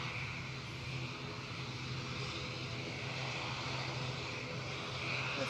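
An ATR turboprop airliner departs for Dublin from Edinburgh Airport, a faint, steady distant drone of engines held level throughout under a breezy outdoor hush.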